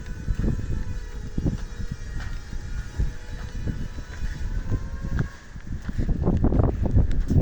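Steady wind rushes and buffets across the microphone, a continuous low roar with gusty bursts, swelling louder toward the end.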